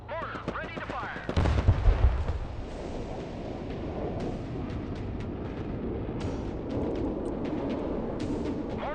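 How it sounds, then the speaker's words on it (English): Artillery-style mortar fire in the video game Broken Arrow, with a loud booming launch burst early on followed by a dense rumbling barrage of distant impacts and gunfire, and radio-style voices talking over it. "Mortar ready to fire."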